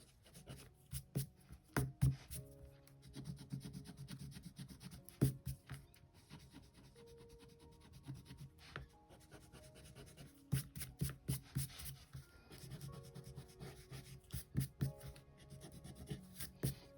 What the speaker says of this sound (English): there's a little bit more to erase